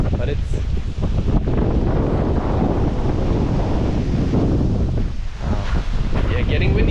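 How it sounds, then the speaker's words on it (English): Strong wind blows outdoors in Germany, a loud, continuous roar buffeting the microphone with gusty surges and no pauses, while a voice speaks faintly beneath it. "getting windy out here. First wind in 24 days."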